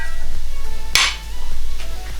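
A metal weight is lifted off a pressure cooker while cooking South Indian beef curry: one sharp metallic clink stands out clearly over a steady low hum, with softer faint taps around it and no talk.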